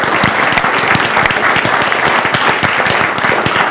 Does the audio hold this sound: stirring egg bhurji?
no